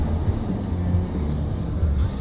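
Cabin rumble of a family car driving through Wyoming, heard from the very back seat, a steady low road and engine drone that stays loud and even throughout.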